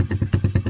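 A motocross motorcycle engine runs close by at an outdoor motocross event, loud and throbbing in a rapid, steady pulse with no talk over it.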